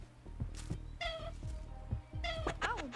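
A cat snail creature in the ARK video game lets out a few drawn-out, wavering meows over low rhythmic thumps and footstep-like knocks, fairly close and with no talking.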